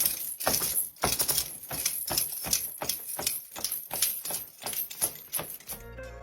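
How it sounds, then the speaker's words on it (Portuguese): Foley performance of a horse's saddle and reins made by shaking chains and leather, with rapid rhythmic clinking and jangling in a galloping pattern, close and fairly loud throughout. "o artista de Foley imita o som da sela e das rédeas,"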